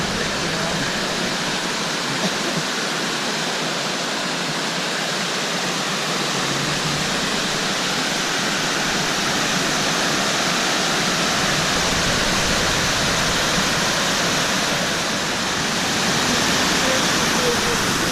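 Loud, steady rush of a full creek at the Subway in Zion National Park, a broad continuous roar of flowing water close by that never lets up, with faint voices now and then beneath it.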